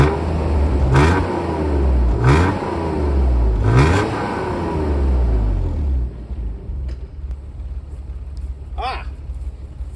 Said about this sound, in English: I'll put the camera by the exhaust pipe so you can hear this engine.